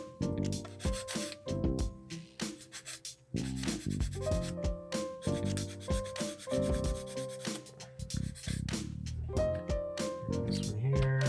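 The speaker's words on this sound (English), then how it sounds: "I'll take a 400 grit sand and stick here and just clean it up a little bit" A 400 grit sanding stick rubs over a plastic steering part for a Tamiya TT02 drift RC car conversion, with steady close back-and-forth scraping strokes, brief pauses and occasional small clicks.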